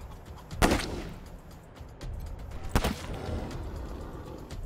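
Two sharp, loud gunshots sound about two seconds apart in the turn-based video game Wasteland 3, each with a booming echo, against a low rumbling background.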